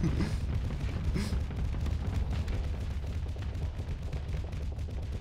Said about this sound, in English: the sound of auto cannons is all I can hear